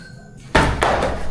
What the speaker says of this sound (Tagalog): Ano yung kumakatok? Hindi, parang bakal.